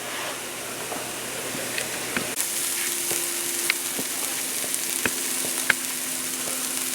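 Mushrooms, garlic and vegetables sizzle steadily in a hot pan, a close, continuous crackle broken by occasional clicks and scrapes of stirring.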